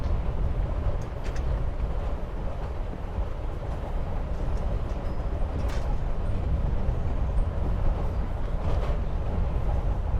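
A train rolls along steadily in Life is Strange: Before the Storm, giving a constant rumbling clatter of wheels on rails at even loudness with faint metallic creaks.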